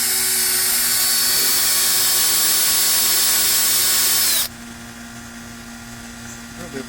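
A small drill bit of about 1/16 inch boring into a seashell, a loud steady high whine of a power tool that stops abruptly after about four and a half seconds, leaving a faint hum.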